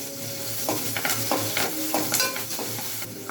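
Curry leaves added to hot oil for a bottle gourd and peanut curry, giving a close, lively sizzle with quick crackles and stirring scrapes over a few seconds.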